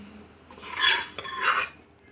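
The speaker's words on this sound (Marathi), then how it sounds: "आणि यावर आपल्याला झाकण ठेवायचं आहे।" A metal lid set down on a pan of whole masoor dal, giving a couple of soft clinks and scrapes over about a second before quiet returns.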